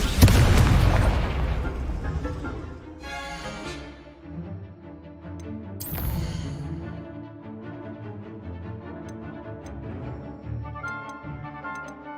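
A burst of fiery spell noise from the Incendio casting in Hogwarts Legacy, a loud opening whoosh followed by a sharp bright crack and lingering crackles and ticks over a low game backdrop.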